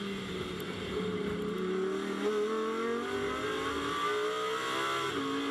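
A GT2 race car at Misano powers out of a corner with a rising engine note, accelerating steadily and heard from a distance with no one talking.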